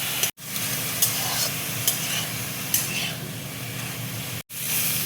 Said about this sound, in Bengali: গাজর দেখো ঘি আমি ভেজে নিলাম,